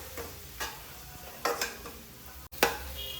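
A spoon stirs mustard seeds, cumin and turmeric in a hot pan for mango rice, giving several spaced scraping strokes over a faint, steady sizzle.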